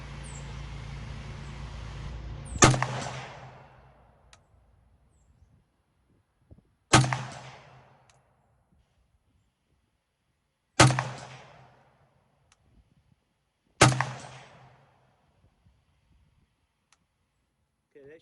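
SIG 550 rifle fired in slow, spaced single shots, each a loud sharp crack with a fading echo and silence between, the last one at the very end.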